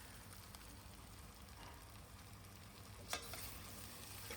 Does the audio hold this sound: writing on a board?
no